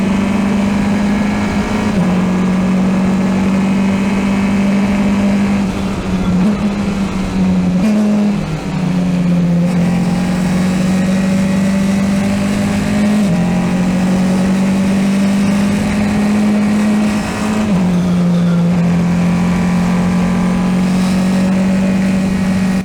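An F4 race car engine drones steadily through a rolling start at Dijon-Prenois, loud and close from onboard, holding a steady pitch with brief dips and shifts as the car adjusts speed, no voices.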